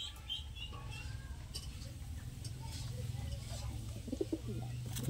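Madras pigeons give soft low cooing in a loft, repeated murmuring coos running under nearby conversation, with a few faint higher chirps and scuffles mixed in.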